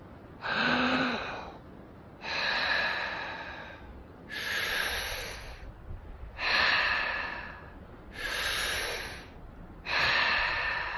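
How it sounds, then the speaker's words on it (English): Repeated straw breathing for a Wim Hof breathing exercise: six long, loud breaths drawn steadily through pursed lips at about two-second intervals, each followed by a brief pause, close to the mic with no talk. "You do a straw breath like this."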